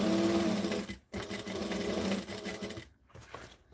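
A sewing machine runs close by while stitching a Harlot bag, a fast, steady mechanical whir in two bursts split by a short pause, fading out near the end.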